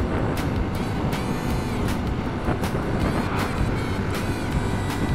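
A Honda C90 small-capacity motorcycle ridden along a road, its engine droning steadily and loudly throughout with constant wind rush and no talk.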